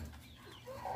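Chickens and roosters cluck softly at a rural backyard gathering around a bonfire with roasting corn, a faint steady farmyard murmur with a brighter cluck rising near the end.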